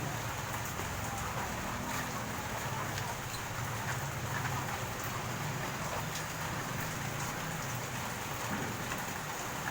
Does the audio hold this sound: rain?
yes